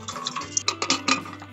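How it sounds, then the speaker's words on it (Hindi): Overnight-soaked rajma kidney beans tumble into a pressure cooker pot already holding salt, a cinnamon stick and a bay leaf, making a quick run of close, soft clattering rattles and knocks. "इसमें ऐड कर रही हूँ ये राजमा जिसे हमने ओवरनाइट"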